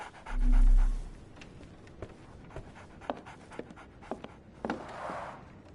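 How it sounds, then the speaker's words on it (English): A dog in a Sherlock Holmes video game pants in quick, soft rhythmic breaths, with a heavy thump near the start and scattered clicks throughout. "So, Barnes has a dog now"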